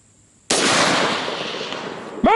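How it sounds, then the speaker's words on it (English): A single loud AR rifle shot fired during long-range precision shooting, a sharp broadband crack with a long rolling echo that decays over about two seconds before another sharp sound at the end. "This is by far the longest shot I've ever hit with my AR."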